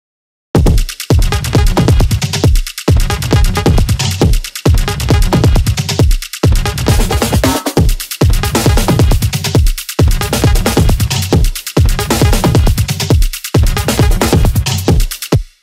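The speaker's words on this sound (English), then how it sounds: "The drum group together sounds like this." A club track drum group plays together, with heavy, dense kick-driven beats and bright percussion pulsing in a steady loop. Regular short gaps break the pattern, and it runs loud and alone with no talk.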